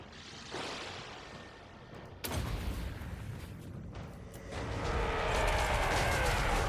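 Heavy artillery explosions from the Dreadquake Battery in a strategy video game, with a muffled boom followed by a sharp, loud impact burst at about two seconds and a rumbling roar that swells toward the end.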